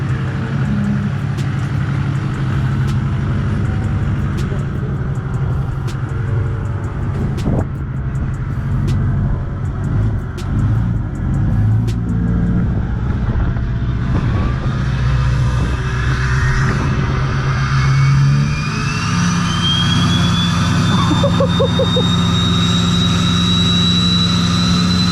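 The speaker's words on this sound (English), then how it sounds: "this turbo is somehow even louder than the old one" Duramax diesel pickup truck fitted with a new, bigger turbo, its engine running loud and steady close by with a rising turbo whistle and spooling tones building toward the end, no voices.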